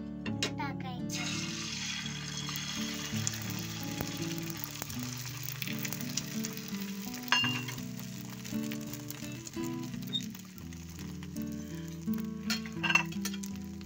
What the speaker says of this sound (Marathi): आता तेल गरम झालं आहे। पहिलं तेल असं चांगलं पसरून घ्यायचं थोडंसं, आणि मग टाकायचं।